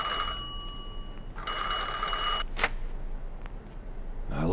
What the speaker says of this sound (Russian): как всегда, начинается серия с телефонного звонка